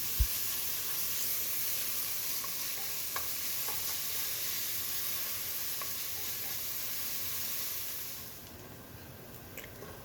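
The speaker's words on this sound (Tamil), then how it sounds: "வெங்காயத்தை சேர்த்து ஒரு 7-8 நிமிஷம் வரைக்கும் வதக்கினா போதும்." Onions sautéing in a pan for paneer bhurji, frying to medium brown: a steady close sizzle and hiss with occasional stirring scrapes, easing off near the end, no talk.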